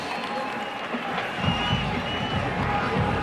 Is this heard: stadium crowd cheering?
yes